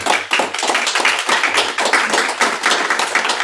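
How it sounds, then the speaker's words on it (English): An audience at a student short-film premiere applauds, a dense patter of many hands clapping fairly loudly and continuously, with no voices heard. "So I'm going to start an applause for them right now."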